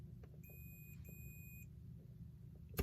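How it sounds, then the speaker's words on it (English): Steady high electronic beeping from an electrical continuity tester on a model train track, sounding continuously for about a second, briefly breaking, then resuming, over a low background hum; fairly faint. "I don't want to hear some beeping. I want to hear all beeping."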